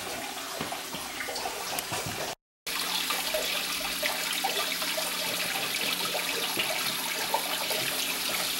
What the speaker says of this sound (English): to be able to siphon off the water, you're going to need one of these